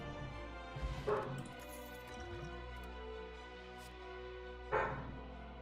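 An indoor dog lets out two brief, fairly faint barks or yips a few seconds apart over a constant low hum.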